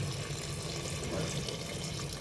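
Water poured steadily into a cooking pot of mutton curry, a continuous close rush and splash filling the pot without pause.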